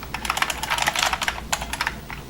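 Fast, steady typing on a computer keyboard at a coding desk, a dense run of close, crisp key clicks with brief pauses.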